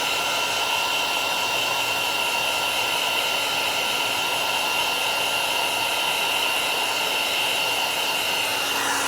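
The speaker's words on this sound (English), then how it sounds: "This is a standard heat gun." A standard heat gun blows hot air onto a rear car emblem on a 2026 Tesla Model Y Juniper, making a loud, steady, close-up rushing whoosh that holds even throughout.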